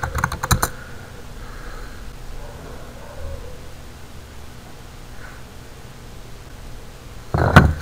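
Quick bursts of keystrokes on a computer keyboard while entering a root password, a short clatter at the start and another at the end with quiet background hiss in between.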